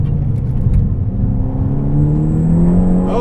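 Hard acceleration out of a corner from a Volkswagen MK6 GTI with a big turbo and limited-slip differential, its engine note climbing steadily under load and heard from inside the car, with a faint whine near the end.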